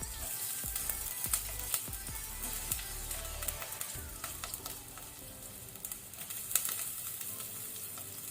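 Onion sizzles quietly in hot coconut oil on a low flame, a steady soft crackle broken by occasional sharp clicks and taps of stirring.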